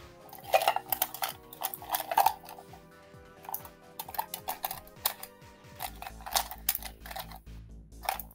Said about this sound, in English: I heard Janine rustling around with a can